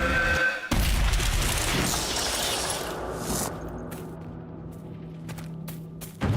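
A sudden loud blast erupts in the Dragon Age: Inquisition video game, set in the Exalted Plains, followed by a long rumbling, crackling decay that thins out into scattered faint debris sounds.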